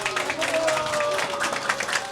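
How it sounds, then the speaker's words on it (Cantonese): Wedding guests at a ceremony break into warm applause for the couple, a dense, steady wash of clapping with some cheering and crowd voices mixed in, sustained throughout. "大家用最熱烈嘅掌聲"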